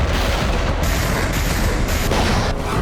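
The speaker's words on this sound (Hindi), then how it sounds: "इसलिए रूस ने फिर यहां मिसाइल से हमला किया।" A Russian missile strike on a residential area of Kharkiv brings a loud, sustained roar of blast noise with heavy rumbling and crackling that fills the whole stretch without a pause.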